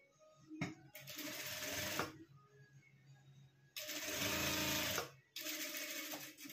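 A sewing machine stitches a small chain-closure pouch in three bursts of steady whirring: a short run, a longer run and a final stretch, separated by brief pauses, close up with no talk.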